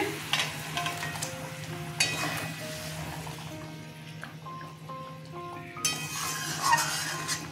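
Chhena koftas go into boiling curry gravy, giving a bubbling sizzle with a few clinks against the pot, heard close beneath soft background music.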